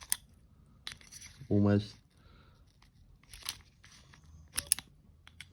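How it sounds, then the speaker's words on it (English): Blunt scissors cutting fishing line while respooling a fishing reel: a few faint, short snips and crunches spread across a quiet stretch, with a brief spoken word in the middle. "Alright, blunt scissors."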